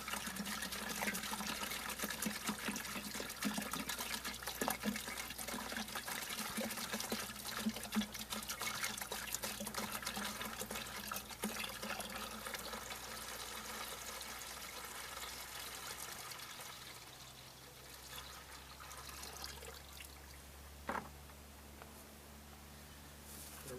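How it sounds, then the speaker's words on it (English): Water pours into a 5-gallon bucket with a 1/4-inch hole drilled in it, set beside a newly planted orchard tree, making a steady splashing trickle that runs long before thinning out near the end. "We'll put some water in there."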